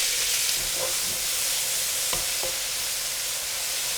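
Mustard seeds frying in hot rapeseed oil in a pan for a coconut fish curry; a loud, dense, continuous sizzle and hiss with a few faint pops, close by.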